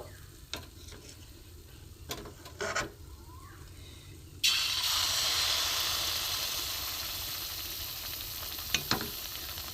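Pitha cake fries in hot oil: a few quiet clicks and taps, then a sudden loud, steady sizzle that rises and holds for the rest of the clip, with a couple of utensil knocks near the end.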